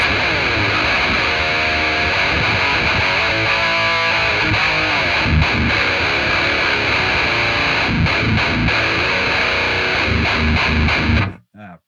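Heavily distorted electric guitar through a Yamaha T50C combo amp with a TS9 pedal in front plays fast riffs and chugging palm-muted chords, loud and dense, then cuts off abruptly at the end.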